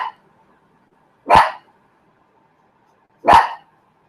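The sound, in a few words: watchdog barking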